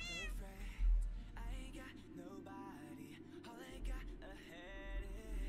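A cat meows repeatedly and fairly close, with drawn-out, wavering cries spread across several seconds over a low background rumble, and a person talks faintly at times.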